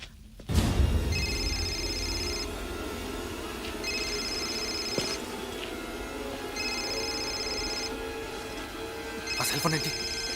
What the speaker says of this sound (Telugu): ఆ సెల్ ఫోన్ ఏంటి?